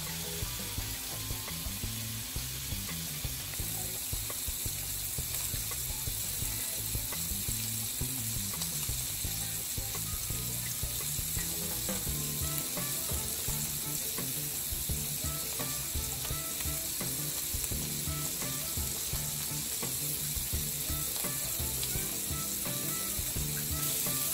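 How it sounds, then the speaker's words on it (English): Steaks sizzle steadily in butter in a hot pan, a dense, even frying hiss that runs unbroken for the whole stretch with faint stirring and spattering mixed in. "Set these guys right in that hot pan."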